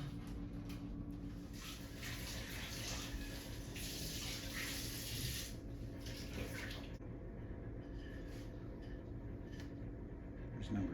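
Running water fills a container to soak sponges for planting seeds in an indoor hydroponic system, a steady close splashing gush that eases and softens partway through.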